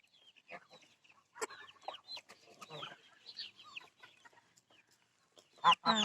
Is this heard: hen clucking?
yes